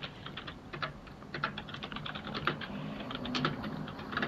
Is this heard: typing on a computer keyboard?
yes